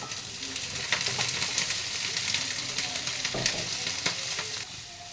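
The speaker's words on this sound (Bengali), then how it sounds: "দিয়ে ভালো করে আস্তে করে ভেজে তুলে নেব সবগুলো।" Chicken pieces for chili chicken frying in a pan, a dense, loud, steady hiss of bubbling oil with faint occasional stirring scrapes, easing slightly at the end.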